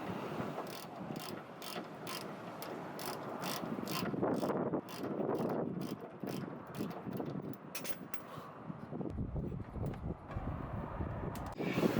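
A hand ratchet clicks away on 13mm sway bar link bolts on a Dodge Caliber's rear suspension, a rapid run of sharp pawl ticks in bursts, with turning pauses and metallic handling noise, close up and without speech.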